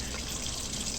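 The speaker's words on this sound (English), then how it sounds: "We already have running water. That already turned on." A bathroom tap in a video game runs steadily, a soft continuous hiss of flowing water, faint and unbroken, with no voices.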